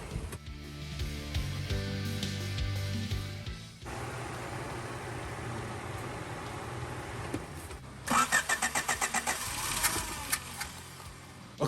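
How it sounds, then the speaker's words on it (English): A Honda car with a carburetor leaking all around is started in a garage, its engine cranking and catching amid mixed mechanical noise, with a burst of rapid pulsing near the end. "we're gonna try to start her up and take our vehicles to a new location"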